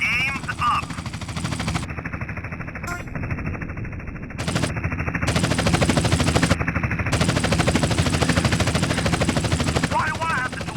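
Continuous automatic gunfire in the video game GTA San Andreas, loud and rapid, rattling steadily through a dense mix of game noise with brief voice fragments at the start and end.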